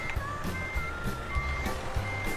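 Truck reversing beeps from Euro Truck Simulator as a truck backs up with a trailer: a steady run of evenly spaced electronic beeps over a low engine rumble, moderately loud and close.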